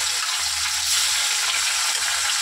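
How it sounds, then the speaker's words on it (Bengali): Fish frying in hot oil in a home kitchen, a dense, loud, continuous sizzle heard up close with no talking. "আমি এখানে মাছ ভাজা শুরু করি"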